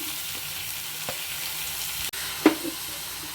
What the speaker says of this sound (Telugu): కరివేపాకు ఉల్లిపాయలు వేసేస్తున్నానండి